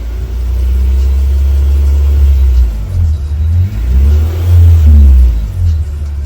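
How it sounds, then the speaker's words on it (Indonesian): A BMW E46 with an M43 engine is revved in a few swells, a loud, close, low engine rumble rising and falling over a steady idle. "Coba kita tes sambil gas."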